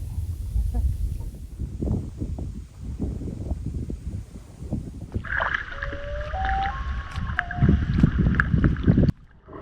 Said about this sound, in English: The gentle breeze of breakfast has turned into a brisk wind.